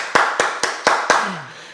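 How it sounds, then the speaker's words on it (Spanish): A few hands clap five times in a steady rhythm, close and sharp, as a television program guest is welcomed. "recibir con un aplauso a Lady Yamile Joya Rangel."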